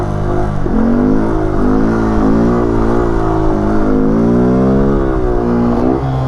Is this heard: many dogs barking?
no